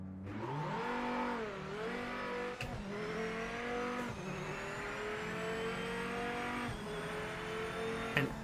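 An atmospheric V8 race car engine in the racing game Project Motor Racing revs and climbs through gears, its pitch rising and dropping at each shift, with faint tire squeal and no talking.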